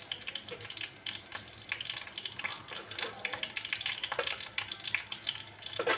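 Water being poured off boiled ridge gourd in a kitchen, a steady splashing, trickling pour that runs throughout at moderate loudness with no talking.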